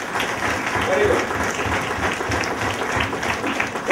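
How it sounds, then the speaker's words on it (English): Applause from a college event audience in a hall, a dense steady patter of many hands clapping close to the microphone, with voices murmuring underneath throughout. "Give a round of applause."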